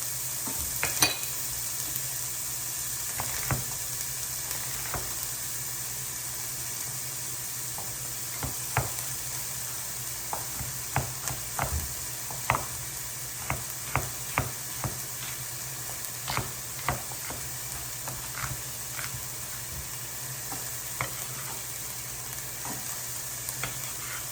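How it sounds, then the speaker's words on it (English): Hot oil sizzles steadily in a pan while a spoon knocks and scrapes in sharp, scattered clicks, the frying hiss continuous and close with no talking. "Oh yeah, that oil is hot already."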